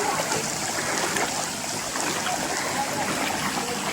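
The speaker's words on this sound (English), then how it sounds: "We're wading through the water right now." Boots wade through shallow water on a jungle trail in the Amazon near Manaus, making a continuous close-up swishing and splashing that runs steadily from start to end without pause.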